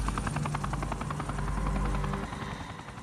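A military helicopter passes close by. Its rotor beats in a fast, loud, chopping rhythm that swells and then fades toward the end. No voices.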